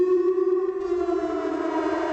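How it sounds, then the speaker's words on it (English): A steady civil-defense-style siren wails inside an underwater video game, a loud sustained harmonic tone that holds level and dips slightly midway, alone with no speech over it. "Why are there sirens?"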